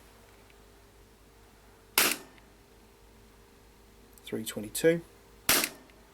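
An Umarex Glock 19 airsoft pistol shoots green gas with 0.2 gram BBs through a chronograph, two sharp, loud pops spaced a few seconds apart, with a short burst of speech between them.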